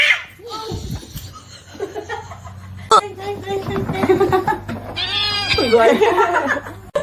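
A kitten meows in high, rising and falling cries, loudest near the end, close and clear over a steady low hum, mixed with human laughter and chuckling.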